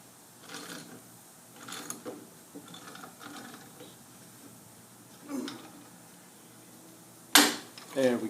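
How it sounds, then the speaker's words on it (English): A hand ratchet loosening bolts on the drive end frame plate of a 24SI alternator, giving a few short, quiet clicking bursts spaced apart, with one sharper, louder metallic clatter near the end. "Then I'll take my ratchet and we'll go ahead and remove this plate."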